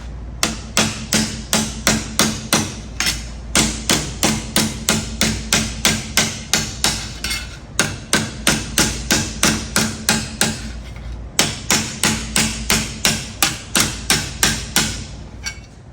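A steel angle for a dump truck fender is hammered in a vise with loud, close, rhythmic metallic blows, dozens in quick succession with a couple of short pauses.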